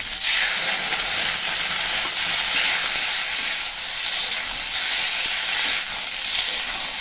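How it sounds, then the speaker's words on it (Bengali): Ginger-cumin paste sautés in oil in a pan for a tilapia curry with ridge gourd and potato, giving a loud, continuous hissing sizzle with faint stirring, and no one talks. "সুন্দর করে কষিয়ে নিলাম"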